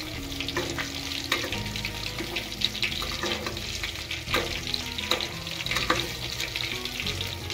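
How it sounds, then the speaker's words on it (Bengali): Hot oil is spooned over chitol fish frying in a small kadai, giving a loud continuous sizzle with spitting bursts and metal scrapes of the spoon, close up and without talking. "তেলগুলোকে মাছের উপরে উঠিয়ে দিচ্ছি"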